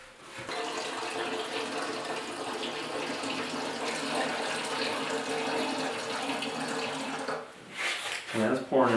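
Vinegar pours in a steady splashing stream into the rusted fuel tank of a Yamaha RS 100 motorcycle for about seven seconds, then stops and gives way to brief handling noises and a voice.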